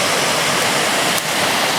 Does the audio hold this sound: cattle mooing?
no